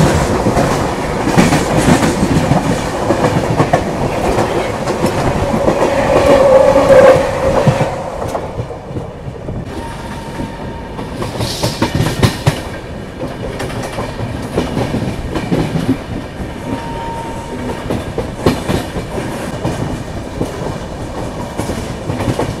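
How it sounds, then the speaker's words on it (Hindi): A passing train crosses near Vadodara Junction outer, heard from aboard the Ahmedabad Pune Duranto Express as loud, continuous rumbling with steady clickety-clack of wheels and brief squeals, fading somewhat partway through. "कोई ट्रेन हमें क्रॉस कर रही है अभी वडोदरा जंक्शन के आउटर पर"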